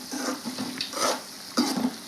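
Okra (bendakaya) curry frying in a pan gives a soft, intermittent sizzle with a few stirring scrapes, moderately quiet and close, with no voices.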